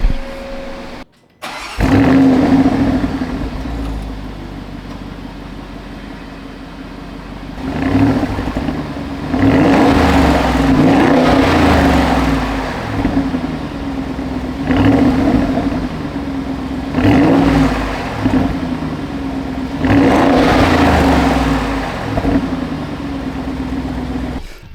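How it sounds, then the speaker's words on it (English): An Audi SQ7 engine starts, then is revved hard several times in a row, each loud rise and fall of the exhaust ending in a gurgling, popping burble between pushes, heard up close with no talking. "you're going to be able to hear me rev it up so you can hear it, because it gurgles, it pops, it sounds fantastic"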